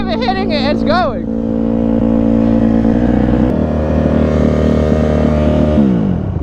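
A small motorbike engine idles too high, running steadily at a fast idle, its buzzing hum constant throughout, with a brief pitch shift early on and a voice nearby.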